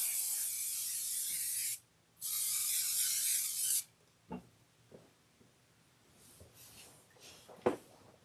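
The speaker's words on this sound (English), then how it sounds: "let's give this all a little shot of spray" Two long hissing bursts from an aerosol can of basting spray over quilt batting and fabric, close and loud, with a brief pause between them, then soft handling and rustling of the fabric.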